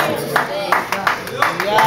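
Church congregation clapping in rhythm during a Spanish-language service, steady hand claps repeating about every third of a second over a background of voices and music.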